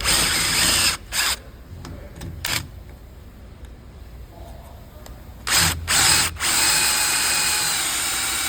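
Power drill with a 3/16-inch bit boring out differential cover bolts on a car: loud, close grinding whine in bursts that stop and restart, with a steadier run of drilling at the end.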